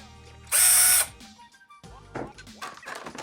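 A Black & Decker 20-volt Max reversible cordless drill whirs in one loud, high-pitched burst of about half a second, followed by quieter clicks and handling noises up close.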